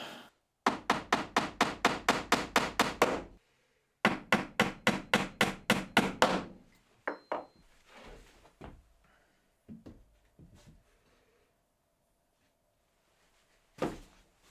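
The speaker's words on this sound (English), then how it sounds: "These end pieces can now get glued and nailed in exactly the same" Hammer blows drive nails into the end pieces of under-sink cabinet doors in a workshop, two fast rhythmic runs of about a dozen sharp strikes each, followed by scattered knocks and a final tap after a pause.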